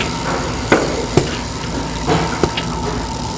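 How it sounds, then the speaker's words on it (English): A GEA IQ Milking Unit is attached in a milking parlour, producing a few sharp clicks and knocks over a steady mechanical hum and hiss of vacuum and machinery. "Take a moment to listen to an actual attachment of the IQ Milking Unit"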